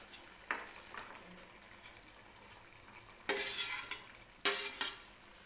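A spoon stirs fried paneer into a simmering matar paneer curry, giving soft scraping sounds and two louder bursts of sizzling and clattering against the pan near the end.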